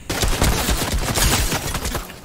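A gold AK rifle in PUBG fires a dense burst of rapid automatic shots. The gunfire is loud and close, with rounds overlapping into a continuous rattling fusillade.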